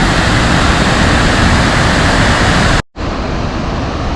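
Massive broadband rush of Tahquamenon Falls, a loud steady close-up roar of falling water broken by a brief dropout before resuming.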